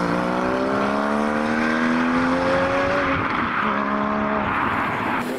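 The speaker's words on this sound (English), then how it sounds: "You can see the GT4 leave from afar." A GT4 car pulls away from a roadside car meet, its engine note rising through the gears as it accelerates into the distance, heard from afar over steady background noise.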